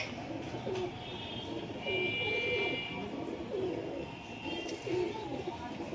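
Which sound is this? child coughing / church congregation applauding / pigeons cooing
pigeons cooing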